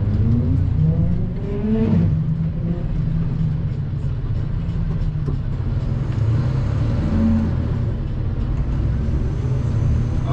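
Car accelerating on a road near Marseille, engine note rising then holding a steady drone from inside a vehicle, with other traffic passing close by.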